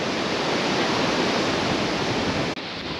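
A river rushes steadily in Chilean Patagonia, a loud, dense, continuous roar of water close by with no pauses.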